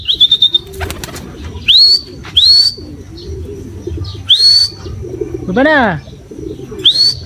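Pigeons kept for breeding give repeated rising, whistling calls and a low swooping coo, with a brief burst of wing flaps near the start, close and clear, while someone speaks briefly.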